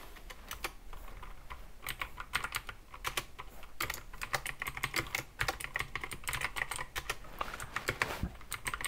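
Rapid keystrokes clatter on a computer keyboard as Go code is typed, a close, irregular stream of clicks with brief pauses, no voices.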